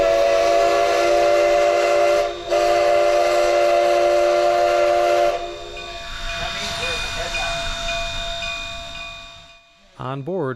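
Steam train on the Cumbres & Toltec Scenic Railroad between Antonito and Chama in the Rockies, a loud steady roar and hiss with a long sustained steam whistle, fading to rumbling rail noise before a brief sharp burst at the end.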